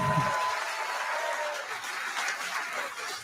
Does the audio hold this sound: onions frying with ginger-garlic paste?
no